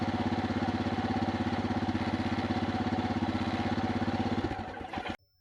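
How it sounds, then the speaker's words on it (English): A Royal Enfield Himalayan motorcycle engine runs steadily at a loud, close idle with a throbbing single-cylinder pulse, freshly refilled after an oil and filter change, then cuts off abruptly near the end. "Now crank the engine."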